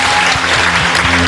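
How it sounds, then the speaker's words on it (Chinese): A studio audience applauds at a Taiwanese televised singing competition, a dense, loud wash of clapping throughout the short stretch. "我都要给你们鼓掌"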